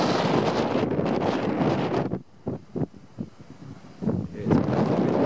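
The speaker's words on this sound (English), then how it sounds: "going to do a slow pan to show everyone exactly how windy it is." Strong wind buffets an outdoor microphone in loud, roaring gusts. The roar drops off for about two seconds, leaving brief thumps, then surges back in. No voices are heard.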